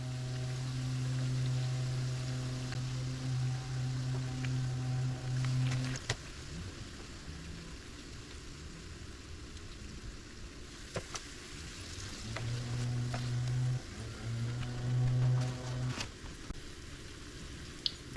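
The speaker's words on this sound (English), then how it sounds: "I apologize if you could hear the guy cutting grass outside." Lawn mower cutting grass outside a house, a steady droning hum that cuts out midway and returns later, heard faintly through the walls against the sizzle of frying food in a kitchen.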